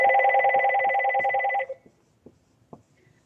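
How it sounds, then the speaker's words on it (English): A house phone rings with a loud trilling electronic bell burst lasting about a second and a half, then stops, followed by a few faint knocks and clicks. "That is my house phone ringing."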